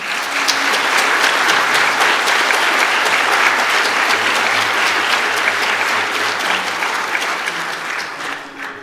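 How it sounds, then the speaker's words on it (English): Loud, sustained clapping from an audience in a high school gathering at a National Honor Society induction ceremony, dense and even throughout, with no voices on top. "Please join me in giving our seniors a round of applause."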